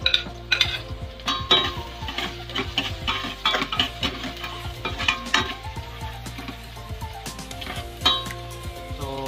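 Chopped garlic sizzles in hot oil in a pan while a utensil stirs it, scraping and clinking against the metal in steady, close strokes with no talking.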